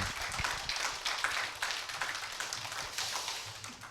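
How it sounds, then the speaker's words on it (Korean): An audience at a philosophy lecture forum gives sustained, fairly faint applause for the lecturer, an even patter of many hands clapping that continues steadily throughout. "김세설이야 교수님께 다시 한번 더 큰 격려의 박수 한번 부탁을 드립니다"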